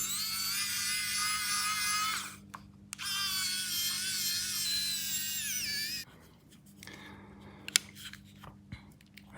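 A NexTool Gemini multi-tool undoes a screw with two close bursts of high, buzzing whine separated by a short pause, followed by quiet clicks and small knocks.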